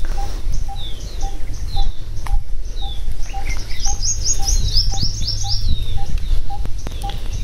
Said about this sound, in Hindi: आप लोग एंजॉय कीजिए इन पंछियों की आवाज को और इन सूखे पत्तों को।